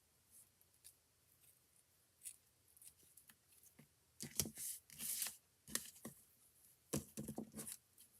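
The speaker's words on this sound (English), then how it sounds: "And then I'm going to cut that off" Scissors snipping off a tied ribbon knot on a paper fun-fold craft card, several close crisp cuts and rustles clustered in the middle, with quiet gaps between.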